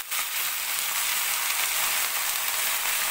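Drumstick leaves (murungai keerai) sautéing in a pan for chutney, a steady loud sizzle of frying that starts abruptly and holds evenly throughout without talk.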